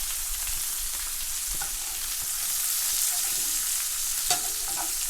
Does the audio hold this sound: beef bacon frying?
yes